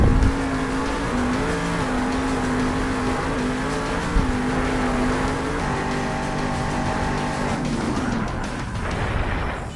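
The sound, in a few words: Blue Thunder monster truck engine revving, Monster Jam video game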